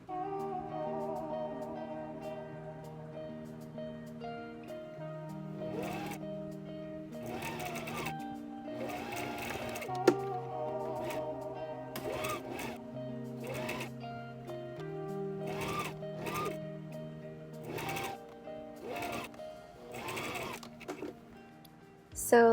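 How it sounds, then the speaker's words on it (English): A sewing machine stitches a bias strip onto a slip dress in a series of whirring runs. Short bursts of stitching are separated by brief pauses under a steady close mechanical hum, with no talk. "I sewed down the middle ditch of the bias strip, then folded it in half and sewed an understitch"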